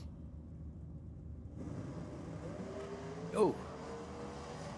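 Pro stock drag racing cars rev in pre-stage and launch at Sydney Dragway during the ANDRA Masters, a muffled engine roar rising beneath crowd noise with a brief sharp surge. A voice exclaims briefly.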